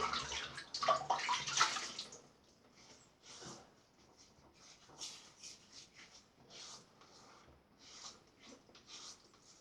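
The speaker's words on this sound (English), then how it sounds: "Now I'll just damp my face." Water splashed by hand onto a face before a wet shave, with a burst of loud, close splashing at first, then softer intermittent splashes and drips, with no talking.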